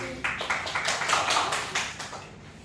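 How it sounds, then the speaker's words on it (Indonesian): A classroom of students claps in a quick, rhythmic pattern of distinct sharp beats, close and fairly loud, for under three seconds. "Beri tepuk tangan lagi"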